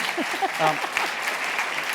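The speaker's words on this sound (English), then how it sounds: "You might like to give them a round of applause to welcome to the stage." A crowd claps in dense, steady applause, filling the room with a broad rush of hand claps and some voices mixed in.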